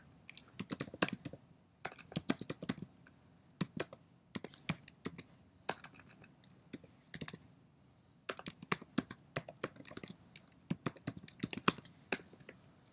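Clattering keystrokes on a computer keyboard as a code comment is typed, coming in quick close bursts of clicks separated by short pauses, with no voices.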